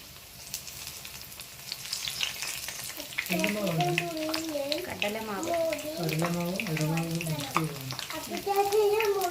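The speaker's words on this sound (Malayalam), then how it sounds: "നമ്മുടെ ബജി വെന്തു വെന്തുകൊണ്ടിരിക്കുകയാണ് ഇവിടെ ഇപ്പോ" Brinjal bajji frying in hot oil gives a steady close sizzle and crackle throughout, while a voice speaks over it for most of the time.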